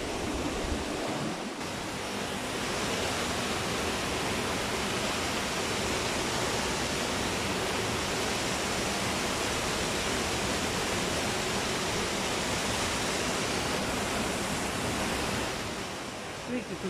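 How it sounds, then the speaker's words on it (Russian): Waterfalls in Turkey, a continuous broadband rush of falling water that holds steady and loud for the whole stretch, swelling in at the start and easing slightly at the end. "Тут водопадик за водопадиком."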